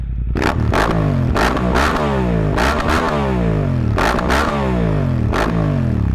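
A 2024 Suzuki GSX-8R motorcycle with an Akrapovic exhaust revs repeatedly through rising gear pulls, its loud close engine climbing in pitch, dropping at each shift, then climbing again in a steady sequence.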